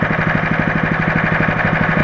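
A petrol engine with magnets fitted on its fuel line idles steadily and close by, its even rapid pulsing and mechanical hum holding constant through the short stretch.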